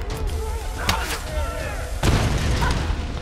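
Deep booms and blasts go off amid crackling gunfire in the video game Tomb Raider, with a voice talking over the chaos.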